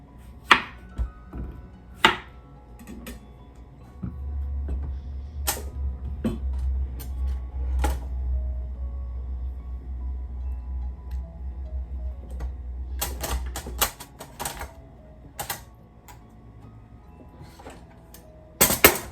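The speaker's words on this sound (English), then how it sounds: "I'm gonna use a mandolin" Vegetables being sliced on a mandoline for refrigerator pickles: a series of sharp, separate cuts and clacks, close and fairly loud, spaced irregularly, with a low steady hum running underneath through the middle stretch.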